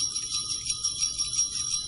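Small bell ringing continuously with a bright, shimmering tinkle, quiet and steady with gentle pulsing over a faint low background.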